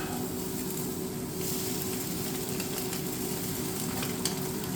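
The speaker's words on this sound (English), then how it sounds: "Let's give these eggs a quick flip." Eggs frying in a hot pan for a stacked breakfast muffin, a constant close sizzle and hiss with a faint low rumble and no talking.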